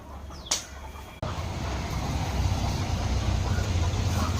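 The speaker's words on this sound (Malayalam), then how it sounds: "കൂവൻ കോഴി നാടൻ ആയ ഇതാ ഒന്ന് അവിടെ." A native rooster calls briefly from nearby, then a sharp knock, followed by steady farmyard background noise.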